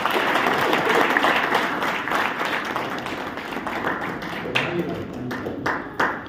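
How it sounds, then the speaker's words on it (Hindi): An audience at an Ambedkar Jayanti event claps to welcome a speaker, loud continuous applause from a crowd that gradually thins toward the end, with a voice faintly heard underneath. "आप सभी को तालियों से स्वागत करें"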